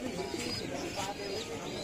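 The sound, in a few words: pigeons cooing at a pigeon market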